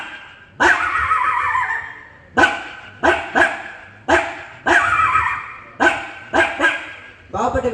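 At a Kerala school arts festival, a mimicry performer voices a dog barking, giving about ten sharp, loud barks in uneven bursts, some single and some in quick doubles, close to the microphone.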